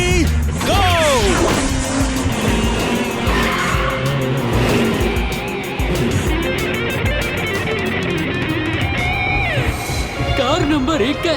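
Cartoon race cars roaring and screeching through skids, with loud continuous engine whine, tire squeals and sweeping pitch changes as they speed past, cluttered with impacts and a voice over the action.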